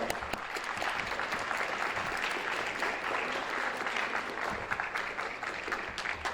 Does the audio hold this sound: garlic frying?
no